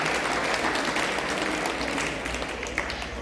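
Audience applause for the organisers at a Kannada religious Purana recitation event, a dense, steady wash of many hands clapping throughout, fairly loud and continuous with a slight easing toward the end.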